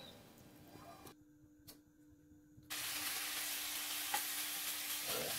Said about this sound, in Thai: นำหมู3ชั้นลงไปกิวในกระทะได้เลยครับ